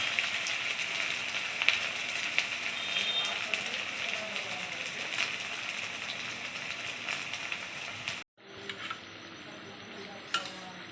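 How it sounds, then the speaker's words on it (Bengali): Suji coconut pithe fry in hot oil over a low gas flame, a steady soft sizzle with faint clinks of a spoon or pan running close throughout, then a brief cut and lighter sizzling. "তিনটে করে দিয়ে ভেজে নেব।"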